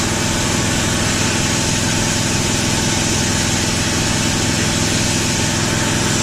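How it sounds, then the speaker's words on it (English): A loud air compressor drones steadily and close by in a workshop where a vintage metal patio chair is being stripped of rust, with a constant rumbling motor and no talking. "there goes the air compressor"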